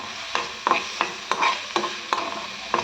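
A spoon stirs garam masala spices through macaroni in a hot pan for cheese pasta, making rhythmic scraping strokes about every third of a second over a light sizzle, with no voices.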